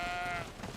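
Goat bleats in the video game GreedFall: a single short, wavering bleat, loud and close, fading into game ambience.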